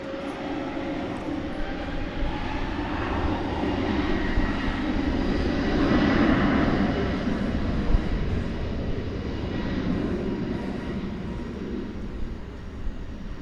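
A Frontier jet takes off from runway 18 left at DFW Airport, a sustained broadband engine roar holding steady and loud throughout, swelling slightly midway with no talk over it.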